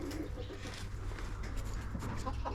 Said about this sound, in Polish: Tutaj są trzy kurki i jeden kogut.